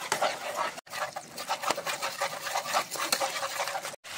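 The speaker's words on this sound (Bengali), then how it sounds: "আমাকে অনবরত নাড়তে হবে।" Cauliflower being stirred in a pan with yogurt, steady scraping and rubbing strokes of a spoon against the metal, close and fairly quiet, with two brief pauses.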